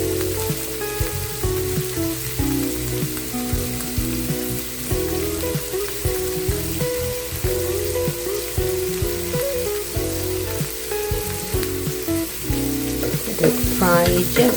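Green chili frying in a pan over medium heat for a drumstick leaf and egg fry, a loud, continuous sizzle with crackling and stirring scrapes that runs throughout and swells slightly at the end.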